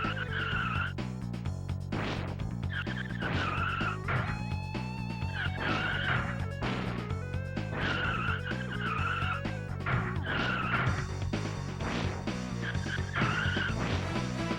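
Race cars in the Rock n' Roll Racing video game skid repeatedly with squealing tires over a constant droning engine and chiptune-style music, the screeches recurring every second or so throughout.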